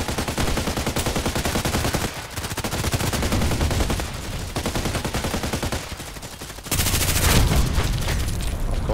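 Rapid automatic gunfire from a machine gun in the online shooter Contract Wars, loud, sustained bursts with brief pauses between volleys.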